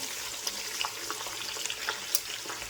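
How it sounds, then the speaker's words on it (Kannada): Peanuts, onion and chili fry in hot oil with a steady close sizzle, marked by occasional sharp pops and light stirring clicks and no talking. "ಎಣ್ಣೆ ಒಳಗೆ ಸ್ವಲ್ಪ ಶೇಂಗಾ ಬೀಜ ಫ್ರೈ ಮಾಡ್ಕೊಂಡೇನಿ ರೀ"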